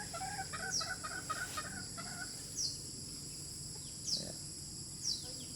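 Farm chickens clucking softly in a coop, with a few faint sharp calls recurring at intervals over low background noise; someone talks quietly nearby.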